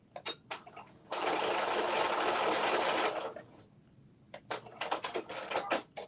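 Sewing machine stitching through denim, a single loud continuous run of about two seconds set between softer clicks and handling noises.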